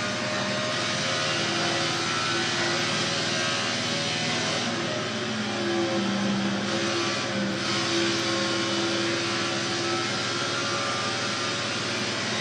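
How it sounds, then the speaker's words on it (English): Race car engines in the NASCAR The Game: Inside Line video game at Pennsylvania, a continuous, steady engine drone that holds at an even level throughout with no breaks. "I could hear their engines behind me, but they're not getting any closer."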